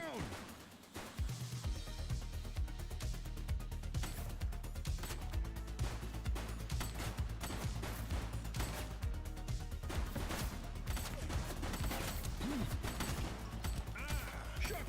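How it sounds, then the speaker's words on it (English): Dense gunfire from The Precinct on Xbox Series X, a police action game, crackling in rapid, continuous bursts over a heavy low rumble for the whole stretch, loud and busy throughout. "Shots fired!"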